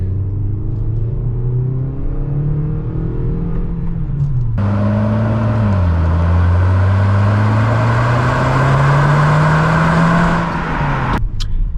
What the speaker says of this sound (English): Now we are going to get our little acceleration here.